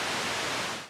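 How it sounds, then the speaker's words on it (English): Steady broadband hiss of white noise from a Sequential Take 5 synthesizer, bright and even, fading slightly at the very end. "white noise to the right"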